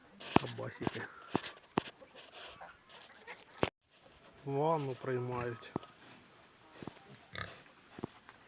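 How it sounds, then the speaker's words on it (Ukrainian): Geese and ducks honk and quack in bursts on a farm, a loud harmonic honking run in the middle, with someone talking and scattered clatter around them. "гуси, качки задовбали"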